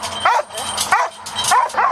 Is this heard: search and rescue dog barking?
yes